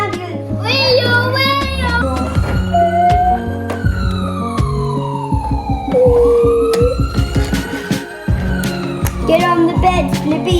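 Ambulance siren wailing loudly and close in a children's cartoon scene, its tone sweeping up and down in long glides over busy musical sound effects, with brief child-like voices mixed in.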